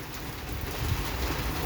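Steady rain falls outdoors during the monsoon season in Bangladesh, a dense continuous hiss with no voices.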